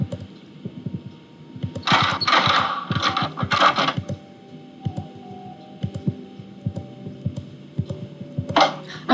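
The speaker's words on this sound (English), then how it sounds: "now let's go to try out the ham radio" A ham radio in the Nancy Drew: Secret of the Scarlet Hand game gives off a steady electrical hum. Louder crackling bursts rise over it in the first half and again near the end. No one speaks.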